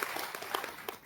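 An audience at a Kannada Rajyotsava and student awards ceremony gives a short burst of applause to welcome a guest, with dense clapping from many hands that fades at the end.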